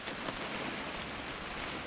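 Steady rain falls in the video game What Remains of Edith Finch, a dense, even hiss of drops on surfaces with no breaks, soft and continuous.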